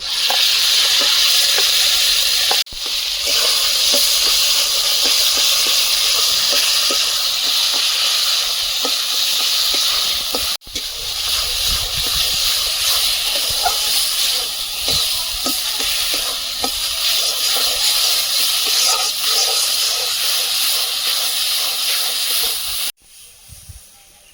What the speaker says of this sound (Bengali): কড়াইতে তেল দিয়ে দিচ্ছি দুটো শুকনো লঙ্কা কালো জিরে বরবটি বাটাটা দিয়ে দেবো